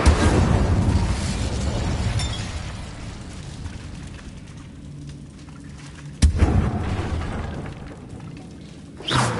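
Incendio fire spell cast in the video game Hogwarts Legacy, a loud blast with a rumbling decay, followed by a second sharp burst midway and a softer one at the end.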